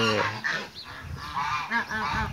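Brown sinaleiro geese honking loudly and close by, several calls overlapping in repeated nasal bursts with no one talking, from free-ranging farm birds.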